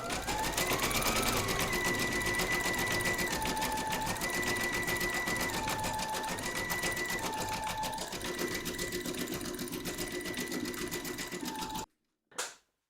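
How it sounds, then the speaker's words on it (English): An embroidery sewing machine stitches a pale grey lamb detail on an Easter treat bag in the hoop, a steady close mechanical whir and rapid needle clatter running continuously before stopping abruptly, followed by a brief click. "Load your matching bobbin and thread colour for the lamb detail into your machine and then stitch round number 7"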